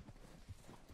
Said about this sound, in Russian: То есть я зря на лошадь сел сейчас.